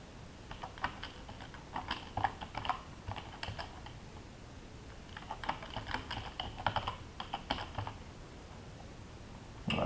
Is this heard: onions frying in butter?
no